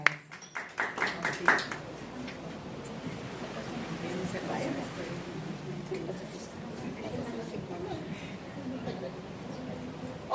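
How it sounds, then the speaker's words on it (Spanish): Guests at a Rotary maternal and child health forum receive a short burst of hand clapping that fades within about two seconds, followed by a faint room murmur and some talking. "démosle un fuerte aplauso a nuestras tres primeras invitadas"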